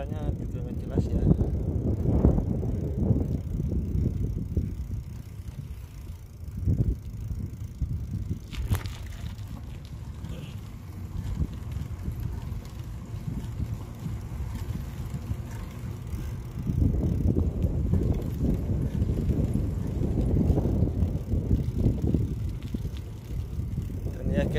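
Strong wind buffeting the microphone outdoors beside freshly planted rice fields in South Korea, a loud continuous low rumble with gusty surges throughout, and a voice talking faintly under it.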